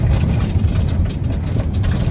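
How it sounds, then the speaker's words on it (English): A bus engine idles at a stop, a steady low rumble holding close and unbroken throughout with no voices over it. "Bus is here."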